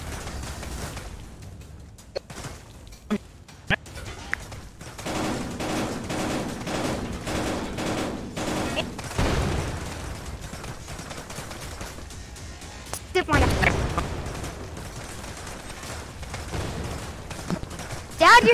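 Rapid gunfire rattles through a VR shooter game, with bursts of sharp shots and heavier blasts recurring throughout while players talk over the action.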